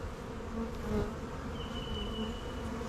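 Honey bees hum in a steady, close drone during a beehive inspection, the buzzing continuous and fairly soft with one brief higher-pitched whine from a passing bee.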